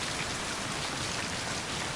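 Steady rain pours in the video game Mind: Path to Thalamus, an even, continuous hiss of falling drops with no pauses, moderately quiet and alone.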